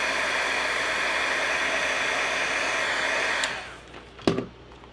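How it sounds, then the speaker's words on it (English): A handheld heat tool blows a loud, steady, whooshing hiss while drying a watercolored slimline holiday card, running for several seconds before switching off and fading, followed by a brief click. "I'm gonna hit this with my heat tool"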